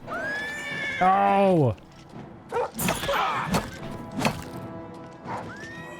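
A horse neighs loudly in Oblivion Remastered, a long descending whinny near the start followed by thuds and whacks of combat, with another short neigh at the end; a player exclaims during it.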